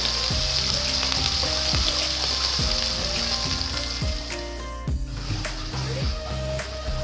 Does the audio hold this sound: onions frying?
yes